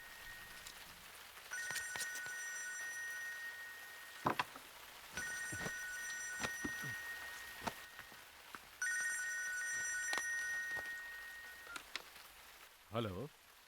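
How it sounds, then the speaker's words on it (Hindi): An old-style telephone bell rings in three repeated bursts with short pauses between them, clear and fairly close. Rain-like background noise runs underneath, and a few short knocks and a brief voice-like sound come near the end. "जरा फोन तो उठाओ।"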